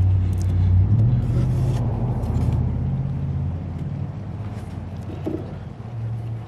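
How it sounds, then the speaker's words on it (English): Cars driving past outside a woodworking shop, a steady low rumble of passing traffic that swells and fades, moderately loud and continuous with no talk. "got cars going by"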